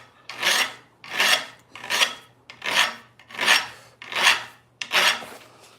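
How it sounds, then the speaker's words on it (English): A hand file rasps across a hand-forged metal spoon in seven steady, evenly spaced strokes, each a close, harsh scraping swell that rises and fades, with no talk. "This is where your spoon really takes shape, is when you get in here and you start filing it."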